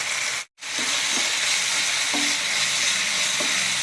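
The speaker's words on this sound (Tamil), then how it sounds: "இதை போட்டு அப்படியே ஃப்ரை பண்ணிட்டு" Steady, loud sizzling of pepper chicken frying in a pan, with occasional stirring clinks and a brief silent break near the start.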